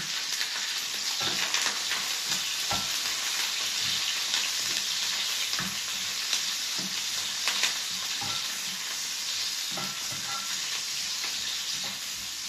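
Garlic sizzles steadily in hot oil in a pan for a beef liver dish, with a continuous crackling hiss and irregular scraping clatters as it is stirred, close and alone.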